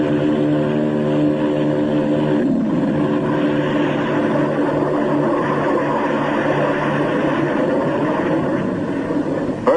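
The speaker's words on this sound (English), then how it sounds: "These JATO bottles are packed with flaming power. In the critical 10 seconds at takeoff, they give the kick-up of 2 added engines." Propeller plane with JATO rocket bottles strapped on for takeoff, Admiral Byrd's Antarctic flight, a steady loud engine drone that holds throughout with a shift in pitch partway through, no voices.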